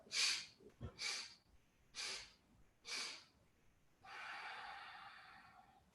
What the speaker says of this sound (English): let's do the one where we inhale in 4 sniffs and then we exhale 1 long exhale